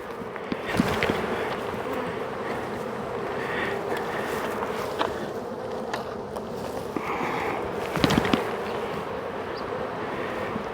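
Honey bees buzzing around hive frames during grafting work, a dense continuous hum close to the microphone with a few faint knocks and handling sounds.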